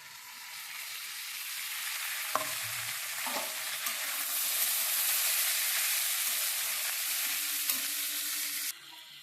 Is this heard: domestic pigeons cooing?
no